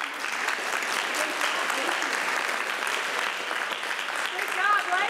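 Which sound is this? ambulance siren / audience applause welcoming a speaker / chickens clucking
audience applause welcoming a speaker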